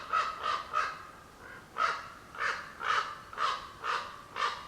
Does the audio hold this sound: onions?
no